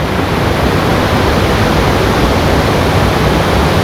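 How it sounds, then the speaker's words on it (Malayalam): A waterfall tumbles over rocks in the Kalanki hills of Kannur, making a loud, dense, unbroken roar of rushing water that fills the whole stretch with no voices. "അടിപൊളിയല്ലേ വെള്ളച്ചാട്ടം?"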